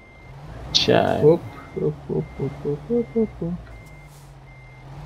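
A truck backing up with its reversing alarm, a run of about eight evenly spaced beeps, loud and close, following a brief burst of noise, with someone speaking briefly.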